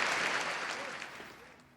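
Stadium crowd applause in a baseball video game after the Highland Deer clinch the 2071 Perfect League World Series, a dense continuous roar of clapping and cheering that slowly fades over the short span.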